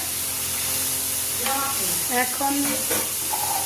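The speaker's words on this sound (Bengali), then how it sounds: "দেখো মশলা থেকে তেল ছেড়ে দিয়েছে, মশলা কষানো হয়ে গেছে।" Spice paste frying in oil for an eggplant and potato dish: a dense, loud, even sizzle throughout, with a voice briefly speaking over it partway through.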